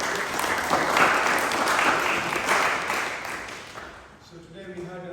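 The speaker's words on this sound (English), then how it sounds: "Let's give a big round of applause to" An audience applauds a youth presentation at a Hare Krishna training center in Nairobi, a loud sustained wash of clapping that fades out as a voice starts talking.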